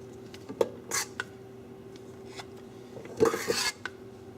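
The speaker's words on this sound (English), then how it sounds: "you take your piping bag, put it over a regular cup, like so, and spoon in your icing" Icing spooned into a piping bag set over a regular cup for s'mores cupcakes: a few close clinks and soft scrapes of a spoon against the cup and bowl, with quiet gaps between, no talking.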